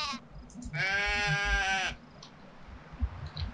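A single sheep in the video game Black & White 2 gives one loud, wavering bleat lasting about a second, heard alone over a low game background.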